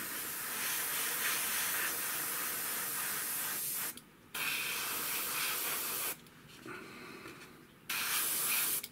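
An airbrush spraying a light coat of paint, a loud steady close hiss cut off abruptly by short trigger pauses and then resuming, with no talking.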